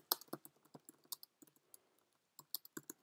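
Fingers tap quickly on a computer keyboard in quiet surroundings, the crisp clicks coming in uneven clusters with a short pause near the middle.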